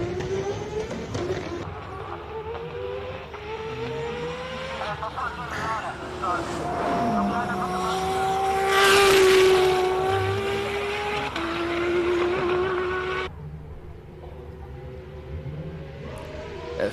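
Race car at the Simola hill climb, its engine note rising and falling as it passes, loudest mid-clip then fading, with a spectator voice faintly underneath.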